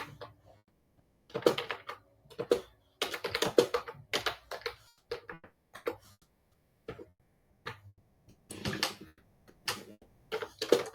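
Bursts of typing on a computer keyboard, clustered clicks and taps in uneven runs separated by brief pauses, close and fairly quiet with no talk over them.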